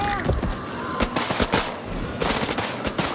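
Pistol fire in the horror game House of Ashes, several sharp loud shots in quick irregular clusters, one trailing off with an echoing tail and some faint background sound between them.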